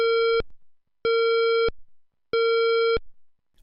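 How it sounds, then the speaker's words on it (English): An evacuation alarm tone at an industrial jetty site, three evenly spaced loud buzzing beeps, each about two-thirds of a second long with short gaps between, heard clearly and alone. "Evacuation Alarm."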